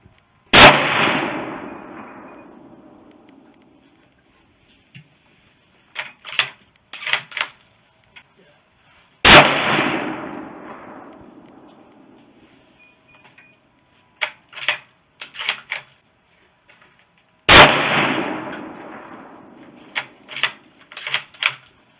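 A Ruger American Predator in 6.5mm Creedmoor fires 129 grain power point rounds at steel targets. Three sharp, loud shots are spaced several seconds apart, each followed by a decaying echo and fainter clanks and clicks between.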